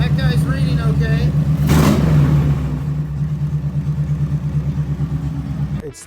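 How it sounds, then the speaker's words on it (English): Harley Davidson motorcycle engine revving with a sharp throttle blip near the start, then a steady, loud, close idle rumble that continues to the end, with faint voices mixed in earlier. "Rev her up, see if the battery light comes on."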